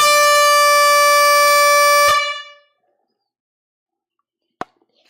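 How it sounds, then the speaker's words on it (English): One loud, blaring air horn blast lasts about two seconds and then cuts off, followed by silence and a single sharp click. "there's going to be an air horn literally right in your face."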